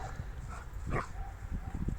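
Dogs, including a German Shepherd and a Malinois, playing and wrestling in a dog park, with scuffling, short yips and whimpers over a low background murmur.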